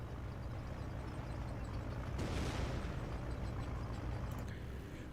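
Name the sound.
explosion from airstrike in video game Company of Heroes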